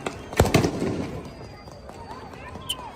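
Flash bang grenades go off during crowd control at a street protest, two sharp loud bangs close together followed by rumbling echo and distant crowd noise.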